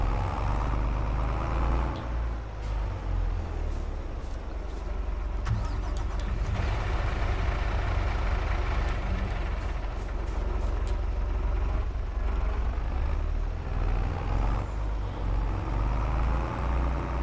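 A truck engine in Farming Simulator 22 idles and revs as a loud, continuous low drone through the whole stretch, with brief hissing bursts like air brakes and no talk.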